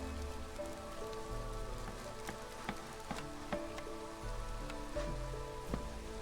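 Steady rain in the city-building video game Against the Storm, a dense patter of drops over a layered ambient music bed, with occasional brighter drip ticks.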